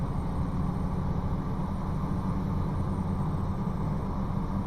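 A truck engine in the Mexico Extremo construction-job driving game drones on steadily, loud and close, with a constant low rumble and no clear rises or drops in pitch.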